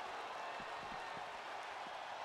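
An arena crowd in WWE 2K22 roars as a faint, steady wash of cheering with scattered claps, no talk over it.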